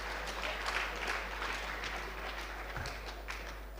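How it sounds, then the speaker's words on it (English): Faint, distant applause from a seminar crowd, a continuous patter of clapping over a low electrical hum. "A big round of applause to him."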